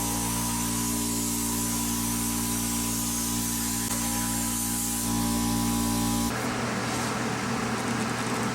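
A PrimeWeld Cut 60 plasma cutter runs at 39 amps and 60 psi through 14 gauge steel, giving a steady loud hiss with a constant buzzing hum that stops sharply near the end, leaving quieter rustling.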